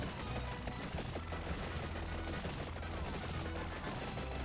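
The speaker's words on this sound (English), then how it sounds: "I'm getting lots of curse explosions" Dense, continuous crackling bursts of curse explosions in the video game Vampire Survivors, a steady rapid barrage of overlapping pops over a constant low game rumble, loud and unbroken throughout.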